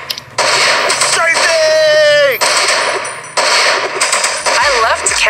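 Long-range cannon fire in the video game Battle Boom booms in rapid bursts alongside whistling projectiles and effects, loud and continuous, while someone talks excitedly over it.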